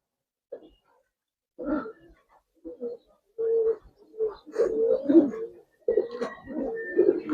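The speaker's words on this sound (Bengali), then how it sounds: "দুইটা সিলভার কবুতর দিলাম ভাই, নরমাদি, দুটোই ইয়াং কবুতর" Young silver Giribaz pigeons, a male and female pair, give soft repeated cooing calls in short bursts, close by and fairly quiet, with a few pauses between calls.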